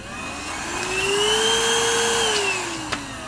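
A MOOSOO U1400-PLUS 1400W pet upright vacuum cleaner runs steadily with a loud, close motor whine that rises slightly in pitch and then falls back, ending with a brief click.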